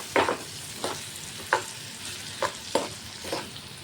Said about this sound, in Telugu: ఇది కూడా సిమ్లోనే పెట్టుకొని ఫ్రై చేసుకోవాలి.